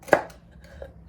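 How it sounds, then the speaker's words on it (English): Knife chopping okra (bhindi) on a board, one sharp close cut followed by a faint softer tap, with no talk. "so three bhindis I'm taking, and I am chopping them in this kind of size."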